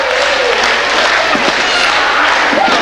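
Loud, continuous roar of a wrestling arena crowd cheering during a match, a broad wash of noise with scattered yells rising above it and no clear break throughout.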